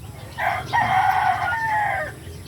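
A rooster among turkeys in a backyard poultry area crows once, loud and close, a single drawn-out cock-a-doodle-doo lasting under two seconds over a quiet background.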